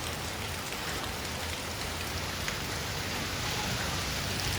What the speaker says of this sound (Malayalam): നല്ല മഴ പെയ്യാണ് കേട്ടോ.